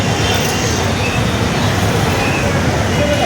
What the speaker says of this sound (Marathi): हा बघा घाटकोपरचा मार्केट हा